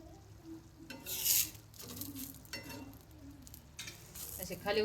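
Pav bread toasting in ghee on a pan, with bursts of sizzling and scraping as the bread is flipped and pressed, plus occasional metallic clinks between the louder sizzle spells.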